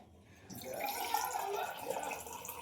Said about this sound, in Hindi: बोतल तो है पर हम गिलास में पानी दे देंगे